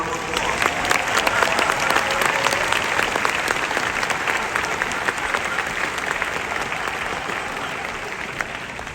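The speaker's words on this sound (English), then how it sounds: "Give the hall, Chesapeake Hall, a round of applause." Sustained applause from a large crowd at a university commencement ceremony in Chesapeake Hall at UMBC, loud and steady, many hands clapping together for the full stretch before easing slightly at the end.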